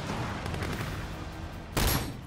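Shotgun fire in the open-world action game Sleeping Dogs, a dense, loud blasting barrage followed by one sharp, heavy shot near the end.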